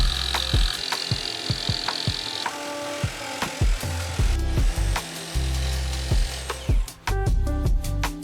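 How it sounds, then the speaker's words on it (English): A jigsaw cuts a wooden board at an angle during a work van camper conversion, buzzing loudly in bursts with rattling, stop-start strokes close by and no talking. "So now we need to go jigsaw this whole board to this angle right here"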